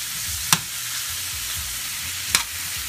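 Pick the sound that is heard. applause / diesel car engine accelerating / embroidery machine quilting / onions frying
onions frying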